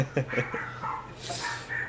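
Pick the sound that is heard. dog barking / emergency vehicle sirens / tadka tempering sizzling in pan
dog barking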